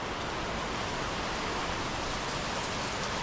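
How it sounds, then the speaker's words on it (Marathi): Steady, even rain hisses continuously in a market street, a dense wash of falling drops with no pauses or voices. "पाऊस चालू झाला आहे बघा"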